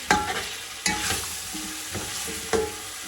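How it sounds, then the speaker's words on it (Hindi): Chicken for pulao fries and sizzles in a pan while being stirred, with a steady hot sizzle broken by several distinct scraping strokes of the spoon, close and clear with no talk. "अच्छे तरीके से हम चिकन को भून लेंगे।"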